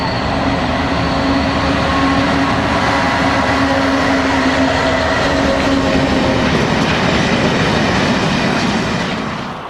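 A DBS Class 66 diesel locomotive, 66152 in new corporate livery, rumbles past at steady volume, with a sustained engine drone and a continuous rolling wheel noise throughout, no voices.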